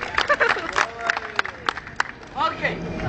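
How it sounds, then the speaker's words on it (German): A street audience at a dance show in Berlin's Alexanderplatz claps along, giving scattered, uneven hand claps in a loose rhythm beneath a chattering crowd and voices. "Leute, Hände raus und klatschen."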